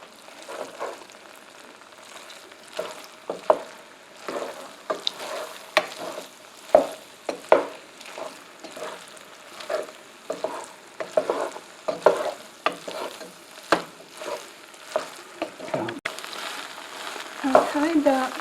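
Velveeta cheese melting in a pan for taco mac and cheese, with a steady soft sizzle broken by repeated scraping stirs and spoon knocks, close and alone without talk.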